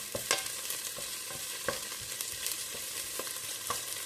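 Chopped onion fries in a saucepan while a utensil stirs it, giving an even close sizzle broken by soft scraping taps every half second or so, with no voices.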